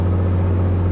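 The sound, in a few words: aircraft piston engine run up to full throttle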